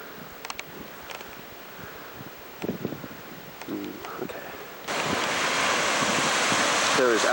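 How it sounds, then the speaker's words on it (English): Ocean waves roll onto a black sand beach on the windy windward side of an island. Quiet at first with scattered rustling and wind bumps, the surf then rises to a loud, constant roar. "That is a cool looking beach."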